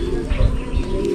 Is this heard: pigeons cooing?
yes